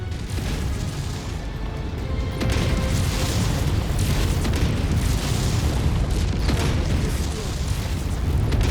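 Airstrike explosions in the MechWarrior 5: Mercenaries video game roar as a continuous, loud wall of booming blasts and rumbling debris that swells and persists throughout, with no pause.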